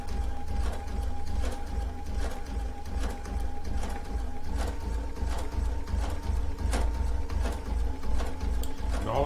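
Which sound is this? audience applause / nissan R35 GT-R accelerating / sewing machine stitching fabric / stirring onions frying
sewing machine stitching fabric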